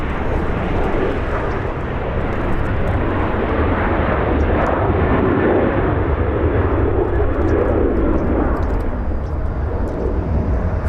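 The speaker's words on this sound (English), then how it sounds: "Let's go to the next departure. It's a 737 Delta Airlines." A Delta Airlines Boeing 737 departing from Los Angeles International Airport, a loud continuous jet engine roar with broadband rumble holding steady throughout.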